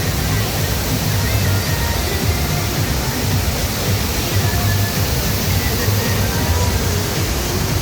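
Steady, dense rush of splashing water at a water park where every game is played in the water, constant and fairly loud throughout with no clear breaks.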